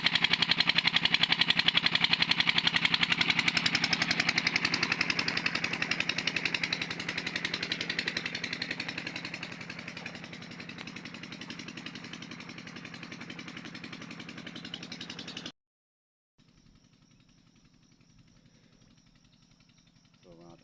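A newly replaced engine runs in a rice field with a rough, buzzing clatter that stays loud, then gradually eases before cutting off, leaving a faint hum.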